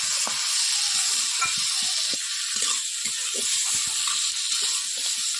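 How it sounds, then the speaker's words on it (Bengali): Crabs dropped into oil-glossed spice masala for a Bengali crab curry give off a steady close hiss of sizzling, scattered with small clicks and scrapes, with no talking. "এবার আমাদের মশলাটার থেকে তেল ছেড়ে যাচ্ছে এর মধ্যে দিয়ে দেবো কাঁকড়াগুলো দিয়ে দেবো"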